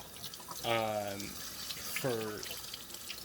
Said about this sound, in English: you're gonna wash your hands under warm water